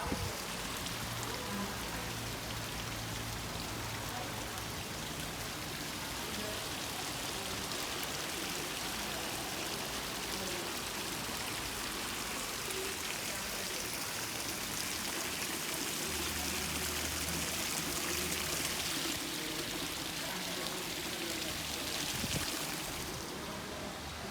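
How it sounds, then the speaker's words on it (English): Steady light rain patters continuously at night outside a strip mall in St. Thomas, a soft even hiss of drizzle with a faint low hum underneath and no talking. "The rain is now falling, a little bit drizzle."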